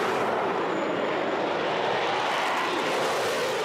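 A Concorde's supersonic jet engines roar at takeoff thrust, a dense, loud, unbroken broadband rush filling the whole stretch with no letup.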